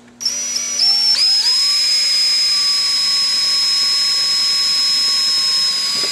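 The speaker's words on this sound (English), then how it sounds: "We're just going to drill that." A power drill with a 1/4 inch bit spins up with a rising whine and then holds a steady, loud, high-pitched drone, close by, with no talking.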